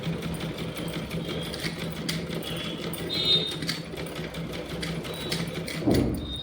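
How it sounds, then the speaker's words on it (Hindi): Sewing machine stitching velvet fabric panels for a small devotional dress, with a steady, close mechanical whirr and rapid needle clatter that runs throughout and swells near the end. "इस तरह से हमें सिलाई लगा देनी है।"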